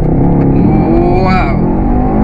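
A 2017 Mercedes-AMG E63 S 4MATIC+ in sport plus mode making a full-throttle launch-control race start, its engine roaring loud and close with a rising sweep, while someone talks over it.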